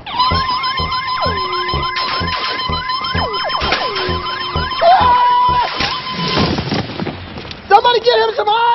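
A voice imitates a warbling spaceship hum with rising and falling whoops, while other people shout and cheer over a dense, chaotic mix.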